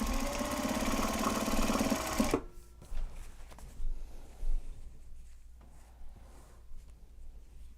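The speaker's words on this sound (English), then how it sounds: "I'm literally just sitting down to the sewing machine right now" A sewing machine stitching a large box bag whirs steadily for about two seconds, then stops, leaving only faint handling noises and quiet.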